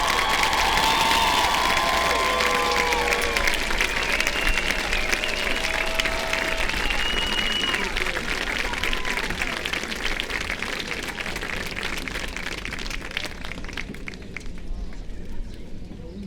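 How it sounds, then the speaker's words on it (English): A large graduation audience for the class of 2017 at a high school ceremony applauds and cheers, with steady broadband clapping and crowd shouts that fade a little toward the end. "Can we please all give the newly minted class of 2017 another round of applause"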